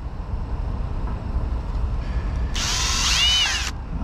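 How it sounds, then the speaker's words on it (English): A cordless power drill bores into a steel truck bumper on a Peterbilt 579, a short high-pitched whining burst of about a second over a constant low rumbling background. "Come on, drill."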